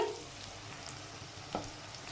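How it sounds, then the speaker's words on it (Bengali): Pakoras frying in oil in a pan give a quiet, steady sizzle for a couple of seconds, with a soft knock of a utensil partway through. "তাহলে চলুন এগুলো ভেজে নিই"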